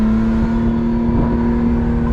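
A McLaren Artura Spider drives with a steady, loud engine drone and a strong tonal hum that holds throughout, with no clear rise in pitch.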